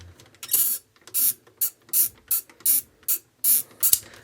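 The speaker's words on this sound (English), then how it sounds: "You can literally just ratchet it down." Ratcheting elbow joint of a Transformers Animated Rollout toy, about nine sharp clicking bursts in a steady rhythm, each a short grinding rattle, close and loud with brief silences between.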